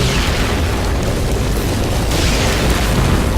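Rocket explosions in the video game Warframe make a loud, steady roaring blast with a constant rumble. Separate hits barely stand out from the blended din.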